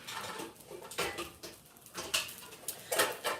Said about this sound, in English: From now, we're gonna be transfer this into the rice cooker.